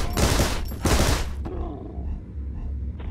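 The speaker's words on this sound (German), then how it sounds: "Und nochmal die beiden über den Haufen geschossen." Gunshots in the video game Rocketbirds: two loud, close bursts of rapid automatic fire in quick succession, then a sudden cutoff into a low rumbling background and a faint final blip.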